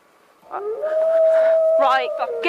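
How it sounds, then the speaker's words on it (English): A long, rising howl holds steady for about two seconds, loud and close, with excited voices breaking in near the end. "replaced almost immediately by a haunting howl echoing from the opposite direction"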